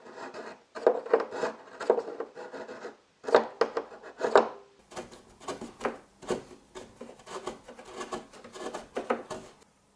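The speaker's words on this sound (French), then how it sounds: "Un coup de rabot pour le mettre aux bonnes dimensions." A hand plane shaves a wooden plank to size during small boat building, a close series of rhythmic rasping strokes in bursts with brief pauses between them, fairly loud and alone.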